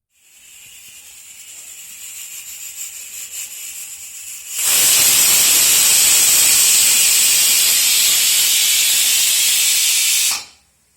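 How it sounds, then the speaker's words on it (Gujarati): A pressure cooker cooking veg pulao builds to a loud, steady hissing whistle of escaping steam that holds for about six seconds and then stops abruptly. "આવી રીતે 1 વિસલ થાય એટલે આપણે કુકરને બંધ કરી દઈશું."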